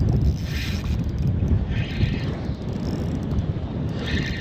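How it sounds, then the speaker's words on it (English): Strong gusting wind on the water while fishing Cowan Creek, a steady roar buffeting the microphone with rising and falling surges, no voices. "the wind has picked up considerably as I've come around the corner."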